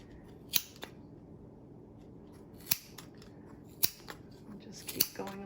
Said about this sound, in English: You're going to grab your scissors.